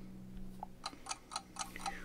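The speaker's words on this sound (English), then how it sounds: "What you hear is the clicking of a clock." A clock ticks steadily in a quiet room, picked up by a phone microphone for recording, with evenly spaced sharp clicks at close range and no voices.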